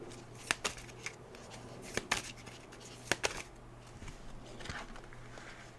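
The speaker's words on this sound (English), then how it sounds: "Shuffling very weird with this one." Tarot cards being shuffled by hand, soft papery riffles and sharp snaps in irregular bursts, close and fairly quiet against a faint steady hum.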